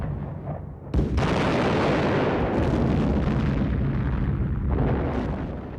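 Heavy artillery fire from a WWII-era documentary: a sharp blast near the one-second mark opens a dense, sustained roar of booming explosions and rumbling bombardment, loud and continuous with no voices.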